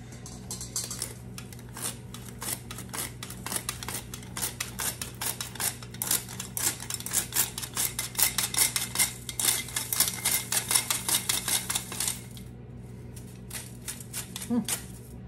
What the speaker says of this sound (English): So I am going to sift it here with my all-purpose flour, salt, and baking soda.